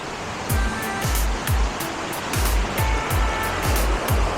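A waterfall in Coorg pouring down in a loud, continuous roar of broadband rushing water, with a few repeated low thumps and brief surges layered over the steady flow.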